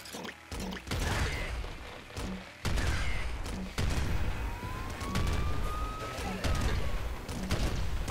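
Grenade launcher fire in the video game Nuclear Throne, a run of sharp repeated blasts and bursts at fairly regular intervals, over game sound effects and a thin rising electronic tone.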